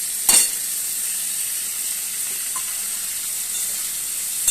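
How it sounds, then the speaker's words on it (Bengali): Washed mung dal sizzles steadily as it fries in a hot pan, a sharp hiss flaring at the moment it goes in, then settling into an even, close crackle with no voices. "মুগের ডাল দিয়ে একটু এটা ভাজা ভাজা করে নেব।"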